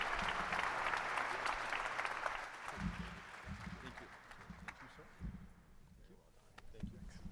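An audience at a Detroit Economic Club event applauds as Jim Hackett and John are welcomed to the stage. The clapping starts loud and dense and thins gradually, with a few scattered claps and murmurs near the end.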